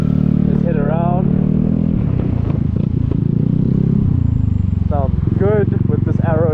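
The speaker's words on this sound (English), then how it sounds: "Sounds good with this Arrow exhaust." A 2023 Vespa GTS300 HPE Supertech scooter engine with a throaty, loud Arrow exhaust drones steadily up close, rising and falling with throttle in traffic, while a person talks over it.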